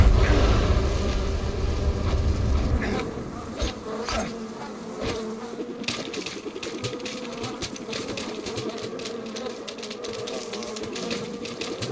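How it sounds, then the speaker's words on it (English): Hornets buzz in the jungle of the video game Metal Gear Solid 3: Snake Eater, a dense, close insect drone with fluttering wingbeats, loud at first and then continuing a little softer alongside scattered game clicks. "Hornet."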